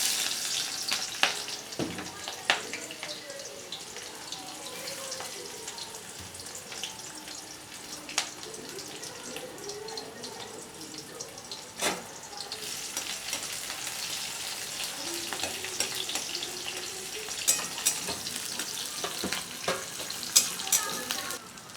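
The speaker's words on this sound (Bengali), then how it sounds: "তেলটা গরম হয়ে গেছে। আমি এখন এর মধ্যে আগে পেঁয়াজ কুচিটা দিয়ে দিচ্ছি।" Chopped onion frying in hot oil in a pan, a continuous hissing sizzle throughout with occasional sharp clicks and scrapes of a utensil, moderately loud and close, no talking.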